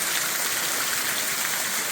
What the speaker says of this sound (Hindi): ये देखो सब खेतों में पानी भर गया, इतनी आधी बारिश हो रही है।